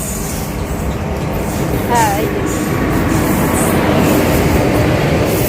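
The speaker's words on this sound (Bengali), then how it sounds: "আমাদের ট্রেনটা অনেকক্ষণ অপেক্ষার পরে যে ঢুকছে" A train pulls into a railway station with a continuous loud rumble and a brief squeal of wheels partway through, while a person briefly speaks nearby.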